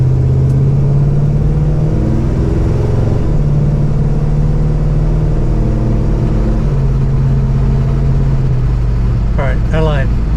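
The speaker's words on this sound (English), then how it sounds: "This is me taking off at a stoplight." A 1968 Pontiac LeMans with an aftermarket exhaust pulls away from a stoplight, its engine droning low and steady from inside the car with shifts in pitch as it gains speed, loud and close.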